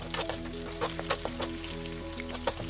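Dried curry leaves crackle and sizzle in hot oil, cooking for a lady's finger fry, with a steady frying hiss and sharp pops under a faint background tone.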